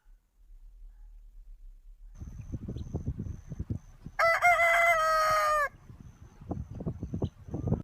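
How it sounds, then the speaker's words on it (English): Low, muttering clucks from chickens rise and fall, interrupted midway by one loud rooster crow before the soft clucking resumes. "H for hen"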